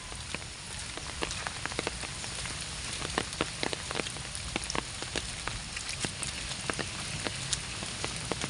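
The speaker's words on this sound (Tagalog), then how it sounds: "Umuulan nga lang guys." Steady rain falls on a surface, with many sharp drip-like ticks scattered irregularly over a constant wash, no talking.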